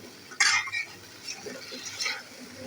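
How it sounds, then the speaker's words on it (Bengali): Potatoes being stir-fried in a pan give a quiet sizzle beneath a few scraping, clinking strokes of a utensil against the pan. "আলুগুলোকে আমি কষিয়ে নিব খুব ভালো করে।"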